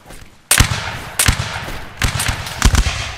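Musket volleys in a Napoleonic Wars linebattle in Mount and Blade Warband: four sharp, loud gunfire bursts, each a ragged crackle of several shots fired together, spaced about a second apart with a low rumble between.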